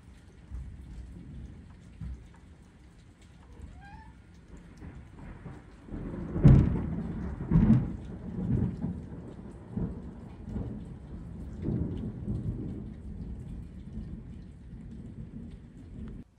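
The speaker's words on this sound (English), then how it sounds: "We had a massive storm yesterday, as you'll see in the footage that I'll include" A thunderstorm with heavy rain, steady rainfall throughout and thunder rumbling and cracking in the middle, fairly close.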